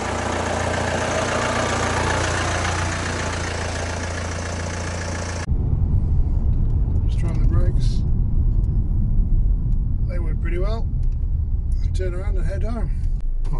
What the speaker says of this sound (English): pop it into gear, let's go for a wee test drive